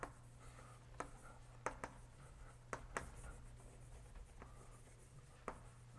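Chalk or marker taps and scratches on a lecture-hall board as a mathematician writes notation, faint isolated strokes spaced irregularly over a steady low room hum.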